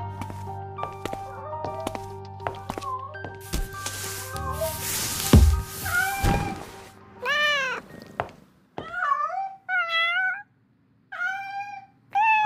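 Holographic kittens in the video game Love & Deepspace meowing several times in a row, clear rising and falling mews following soft thuds and tonal game effects, with no speech.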